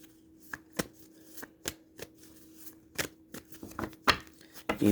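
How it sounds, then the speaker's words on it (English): Soft, irregular riffling and tapping of a deck of cards being shuffled, close by, with quiet gaps between bursts. "Meanwhile, I'll shuffle my cards"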